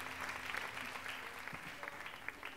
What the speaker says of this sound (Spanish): levanto un fuerte aplauso para él